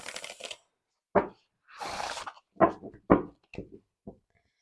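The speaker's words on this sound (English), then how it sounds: "One more riffle and let's pick some cards." Oracle cards are riffle shuffled in several quick bursts of papery flutter and snapping, separated by brief pauses and light card handling.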